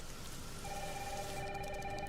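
Heavy rain in a Resident Evil 9 video game trailer, a steady dense hiss throughout, with a faint electronic ringing tone joining partway through.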